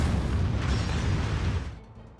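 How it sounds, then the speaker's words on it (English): A nuclear missile launching in the futuristic city-building game ANNO 2205 roars as a loud, sustained low rumble with a broad blast, holding steady before fading out near the end, with no talk over it. "Launching nuclear missile."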